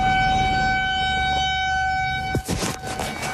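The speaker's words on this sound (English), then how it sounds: "You hear the sirens." Police sirens wail at an active shooter scene near a CVS, with steady sustained tones that break off into sharper, clattering bursts near the end.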